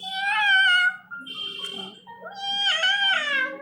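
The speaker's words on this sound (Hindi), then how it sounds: "देखो बिल्ली।" A cat meows indoors in a few drawn-out, wavering cries, close and fairly loud, with a short quieter gap between them and a steady low hum underneath.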